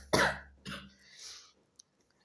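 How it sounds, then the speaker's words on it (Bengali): A person with a cold coughs twice in close succession, the first cough harsh and loud and the second slightly shorter, followed by a breathy exhale and near silence. "ওই জন্য কাশি চলে আসছে"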